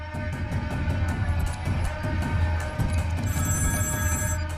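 A telephone bell rings loudly and continuously in a steady, rapid electronic trill, heard close and alone before the call is picked up.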